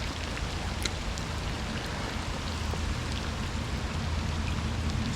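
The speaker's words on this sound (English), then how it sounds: "that rain is not letting up." Steady rain falls on a small trout stream, a constant dense hiss with scattered sharper drop patters over the low rush of flowing water, unbroken throughout with no voices.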